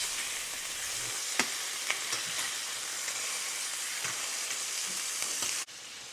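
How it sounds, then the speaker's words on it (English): Pork chops browning in a hot pan give a steady, even sizzle with a few faint clicks and taps. The frying runs without a break and cuts off abruptly near the end, with no voices. "Right now we're just browning the pork chop"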